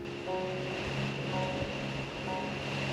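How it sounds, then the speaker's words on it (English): Steady roar of strong wind gusting over 25 knots and choppy waves slapping against a small boat's hull on Chesapeake Bay, with a low engine-like hum and faint tonal rigging whistles throughout. "turning the nice calm bay into its famous Chesapeake chop, with winds gusting over 25"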